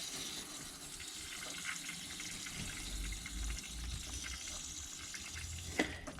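Coolant draining under pressure from a C4 Corvette radiator, a quiet steady gush and trickle of liquid running throughout with a small knock near the end, no voices.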